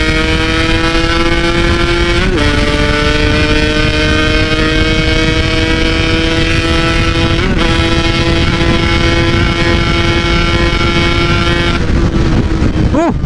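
A two-stroke Yamaha RX King motorcycle engine drones loudly at high revs, the pitch holding steady with brief dips between gears, up close and continuous.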